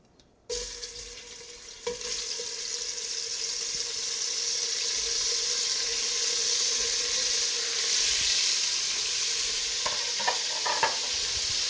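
Beef sizzles loudly after hitting a hot pan for beef bourguignon, a sudden onset that settles into a steady, close frying hiss, with a few clinks and stirring sounds near the end.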